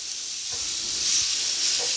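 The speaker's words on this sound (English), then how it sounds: "So just break up the sausage." Sausage and other ingredients sizzle in a frying pan, a steady bright hiss running throughout with a few soft scraping stirs, close and moderately loud, no talking.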